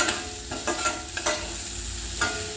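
Tapioca and onion podimas is stirred in a pan, with repeated spatula scrapes against the metal in an uneven rhythm over a low, steady sizzle, close and alone.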